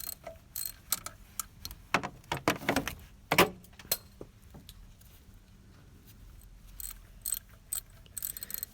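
A wrench loosens a tight 10 mm bolt holding a power steering pump to the engine head, producing close metallic ratcheting clicks and clunks in irregular bursts, with quieter rattles between.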